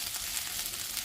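Vegetable fried rice being stirred in a hot pan, with a steady close sizzle and frying hiss running throughout this brief moment and no talking.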